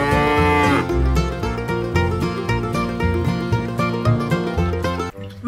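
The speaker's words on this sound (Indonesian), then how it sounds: "Ini ternyata kerbau." A water buffalo moos repeatedly in loud, drawn-out low calls, one after another, with no talking.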